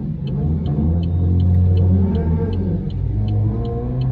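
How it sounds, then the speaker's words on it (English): A car travels fast along a Detroit street at night, its engine and road rumble heard steadily from inside the vehicle, loud and continuous with faint periodic ticking and no talk. "See how fast they drive?"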